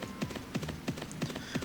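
A horse gallops in Mabinogi, steady clip-clop hoofbeats landing in an even rhythm, five distinct strikes close and clear over faint background sound.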